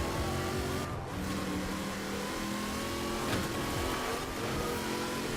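Toyota Supra with a swapped 7.2-litre V8 and rear-wheel drive in Forza Horizon 4, engine revving hard and steady with wheel spin and tire squeal throughout, loud and close.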